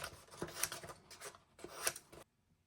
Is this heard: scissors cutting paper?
yes